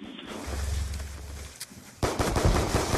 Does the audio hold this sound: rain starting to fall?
no